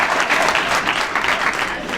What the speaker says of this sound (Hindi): ताली तो अब इस बात पे बजा दो